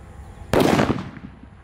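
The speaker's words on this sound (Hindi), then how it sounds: "तो गाइस यहाँ पे है मिनी सूतली बॉम्ब है।" A mini sutli bomb firecracker goes off in a single sharp, loud blast outdoors, its roar trailing off over about a second after a quiet lead-in.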